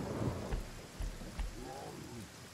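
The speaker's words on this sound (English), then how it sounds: "It's raining." Rain and thunder in the video game Divinity: Original Sin: a steady wash of falling rain with several low, booming thunder thumps rolling through at a moderate level.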